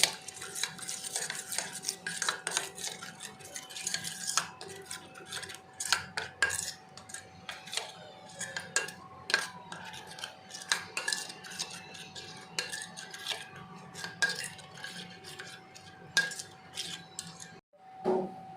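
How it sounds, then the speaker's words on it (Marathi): A spoon scrapes and clinks against a pan while stirring paneer masala with coriander powder and green chutney, a steady close stream of metallic taps and scrapes with a faint background hum and a brief pause near the end. "हे आता आपण चांगलं हलवून घेऊया"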